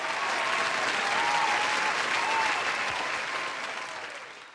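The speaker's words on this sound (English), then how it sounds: "So let's have some applause for Chuck." Audience applause for a person named Chuck, a dense, steady wash of clapping hands that holds loud for several seconds and then gradually tapers, with no voices over it.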